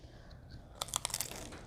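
A close, crisp crunch as a baked egg roll is bitten into, a quick cluster of crackling bites after a brief quiet moment.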